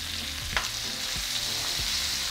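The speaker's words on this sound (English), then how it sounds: "we're going to flip our steaks over." Filet mignon steaks sear in a hot pan, a steady, close sizzle running throughout, broken by a few soft thumps and clinks as the meat is handled.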